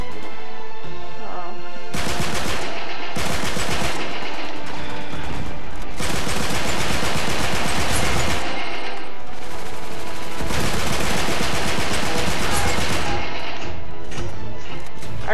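Rapid automatic gunfire from a weapon in the video game Uncharted 3, loud dense bursts of shots with short pauses between them, heard alone without talk.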